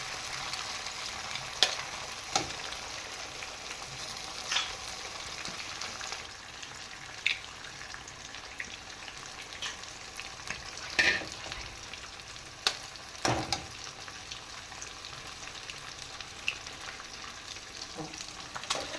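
Five eggs hit hot oil in a pan for egg fried rice, giving a steady close sizzle and crackle with scattered sharp pops and spatters, and no talking.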